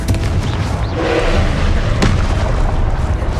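A Confringo blasting spell goes off in Hogwarts Legacy, a loud booming explosion with a rumbling low tail and a sharp crack partway through, close and dominant.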